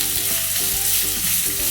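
Sliced onions frying in hot oil for a spicy pepper chicken curry, giving a steady, close sizzle with faint stirring scrapes throughout, no voices.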